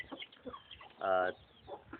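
Thai-Burmese fighting chickens make short, scattered clucks, then one louder drawn-out call near the middle, with soft background murmur around them.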